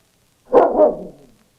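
A dog in a radio drama set in the Yukon gives a single loud, close bark that trails into a short growl, with nothing else audible around it.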